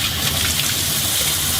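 Cut potatoes are stirred by hand in a bowl of water to rinse out the starch, producing a steady close sloshing and swishing wash throughout with no speech.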